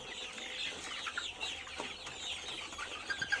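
Brown Cock chickens, 52 days old, cluck and chatter together on a farm in Keraniganj, Dhaka, a dense, moderately close flock sound with overlapping short calls.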